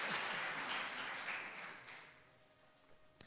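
A church congregation applauds, a steady wash of clapping heard faintly at a distance that gradually tapers off over a few seconds.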